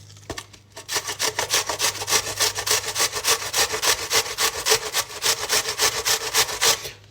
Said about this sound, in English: get your grater, get your onion